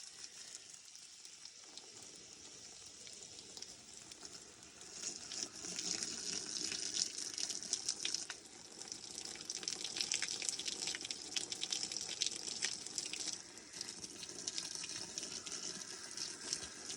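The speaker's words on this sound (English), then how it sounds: "All right, we'll turn this water on." Water from a garden hose running through a lever-action YardsMan hose nozzle, a steady hiss and spray that starts after a couple of seconds and runs on with shifting intensity, close by and alone.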